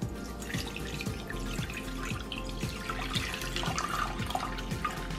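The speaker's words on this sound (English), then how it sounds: "So we'll start with adding our 3 cups water." Three cups of water poured into a crock pot holding browned meat, a steady splashing, trickling stream running continuously and close up with no talk.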